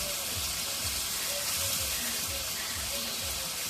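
Onions and spices fry in oil with a steady, soft sizzle and a faint regular stirring rhythm, fairly quiet and with no talk.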